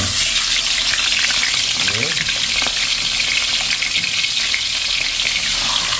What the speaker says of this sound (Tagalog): Isalang na po natin yung ating tilapia. Iprito muna natin bago natin ihalo sa ating sinabawang gulay.